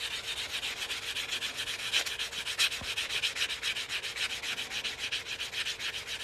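Rapid back-and-forth rasping of a nail file block sanding a silver coin ring, close and even, with steady rhythmic strokes continuing throughout and no voices.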